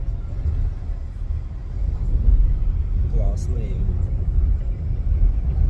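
A Zeekr 001 electric car cruises on a highway, a steady low road rumble and tyre noise filling the cabin without pause.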